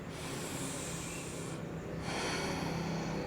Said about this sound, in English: Take a full inhale.